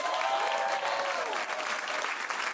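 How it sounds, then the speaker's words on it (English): A live standup comedy audience claps steadily throughout, a dense, even wash of hand claps with some faint voices underneath. "Clap your hands if you like The Bad Friends."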